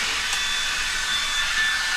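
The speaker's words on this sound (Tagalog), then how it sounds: "so mag blower o sa tasayong buhok" A hair dryer blows on wet hair inside a bathroom, a loud, close and steady airy whoosh that runs unbroken for the whole stretch.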